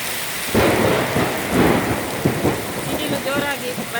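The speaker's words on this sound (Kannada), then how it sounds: "ಸಿಡಿಲು" Thunder rumbles in repeated deep rolls over steady, heavy rainfall, loud and close throughout.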